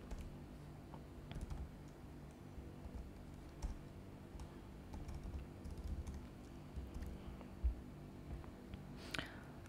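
Rapid typing on a computer keyboard while writing HTML and CSS code, with steady soft key clicks and a few sharper taps, close and quiet with no talking.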